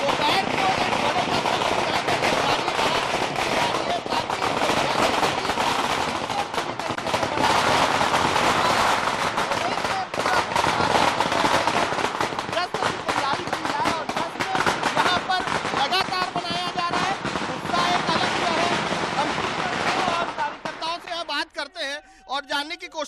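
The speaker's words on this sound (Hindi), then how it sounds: "देखिए सर ये आतिशबाजी दिखा रहा हूँ, यहाँ पर आतिशबाजी भी शुरू हो गई है।" Fireworks and firecrackers burst in dense, rapid crackling volleys at a BJP office election victory celebration in Bihar, loud and continuous for about twenty seconds before thinning into scattered pops near the end.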